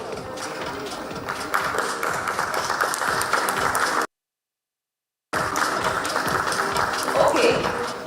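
Audience applause at a share listing ceremony for Supriya Lifescience, a dense, steady wash of clapping and crowd noise that fills the room, breaking off briefly in the middle before resuming at the same strength.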